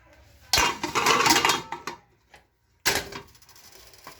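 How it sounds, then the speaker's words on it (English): Kielbasa and cabbage stirred in a cooking pot, with two bursts of scraping and clattering against the pot separated by a short pause, fairly close and loud, no talking. "So after you add your kielbasa, you stir it up"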